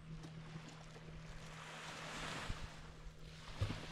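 Sea waves on a pebble beach, a faint, steady wash of surf that swells gently midway and is mixed with light wind noise at a distance.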